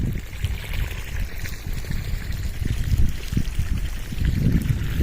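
Irrigation water runs along a farm channel into the field beds, a steady low trickle and gurgle that stays continuous and fairly close with no voices.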